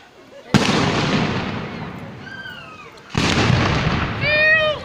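Fireworks bursting over a town fair at Čáslav: two loud booming blasts a few seconds apart, each trailing into crackling rumble, with whistling rockets rising between and after, and voices faintly around.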